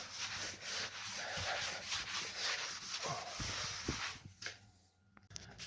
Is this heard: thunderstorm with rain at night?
no